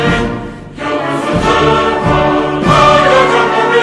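The Turkish national anthem plays loud and full, a swelling orchestral or band performance with sustained brass-like chords and steady march pulses, with no voices talking over it.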